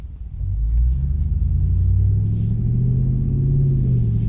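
A 2017 Ram 1500 Rebel truck rumbles steadily while driving, its deep engine note swelling in slightly and then holding loud and close, with no talking.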